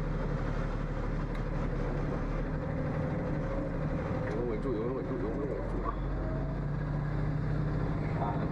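An MV3 military transport truck drives at low speed in a low gear, its engine a heavy, steady rumble with a broad mechanical roar, heard from inside the cab while people talk over it.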